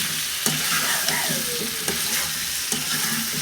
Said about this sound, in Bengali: মিষ্টি কুমড়াগুলো আমি একটু চিংড়ি মাছের সাথে ভাজবো।